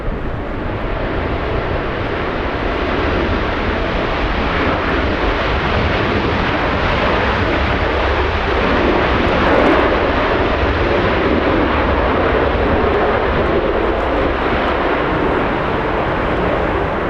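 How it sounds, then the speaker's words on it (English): A blue KLM Boeing 787 Dreamliner arriving at LAX from Amsterdam, a loud steady roar of jet engines that swells gently and holds throughout, with no talking. "Blue plane, this one, Dreamliner, KLM. Flying in from Amsterdam, KLM 603"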